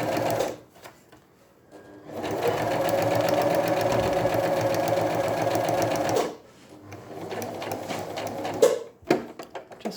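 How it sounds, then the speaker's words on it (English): A sewing machine back tacks a V-neck facing: a close, loud burst of rapid stitching, a pause, a second shorter run, then a few clicks and clunks of the machine being handled. "we're going to do a little bit of a back tack"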